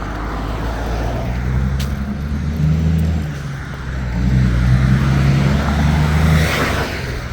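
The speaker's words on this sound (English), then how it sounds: "Oh, come on, there's always another car." Cars pass close by on a busy Chicago city street, a rolling stream of engine drone and tyre roar. It swells twice as vehicles go by, with no pause in the traffic.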